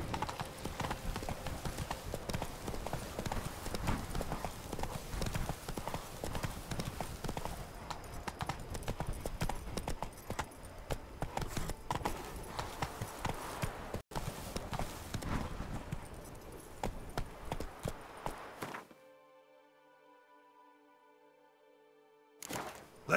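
Roach the horse gallops in The Witcher 3, a fast, continuous clip-clop of hooves running close and loud for most of the stretch, then stopping abruptly into near silence with only faint game tones.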